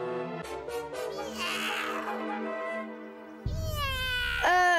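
A kitten meows repeatedly, close and clear: several short mews followed by a longer, drawn-out wailing cry, in a cartoon scene.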